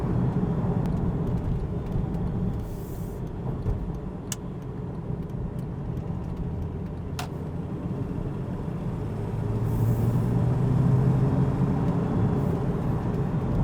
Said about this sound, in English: shifting down, going up to the fourth gear, and back down, just working it like you would